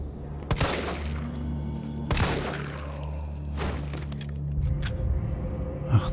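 Several sharp gunshots from the Resident Evil 3 Raccoon City demo, three loud reports spaced about two seconds apart with a fainter shot near the end, over a steady low game-ambience hum.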